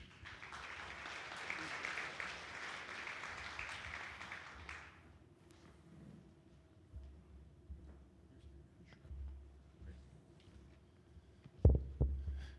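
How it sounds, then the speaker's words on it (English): Audience applause at a Royal LePage real estate seminar fills a room for about five seconds, then fades into a quiet hall with a low hum and a sharp thump near the end. "If we can give him a round of applause."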